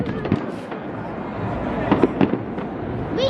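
New Year fireworks on the Newcastle upon Tyne quayside in 2020, heard as a steady outdoor roar with several sharp bangs and crackles clustered near the middle, some crowd noise and a voice faintly mixed in.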